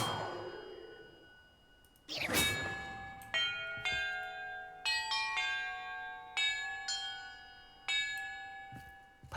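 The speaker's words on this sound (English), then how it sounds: "Perhaps the map contains clues about the order I'm supposed to ring the bells in." Bells struck one at a time in Hogwarts Legacy, a swish and then a series of ringing metallic tones at a steady, unhurried pace, each clear and resonant with a long decay, heard alone.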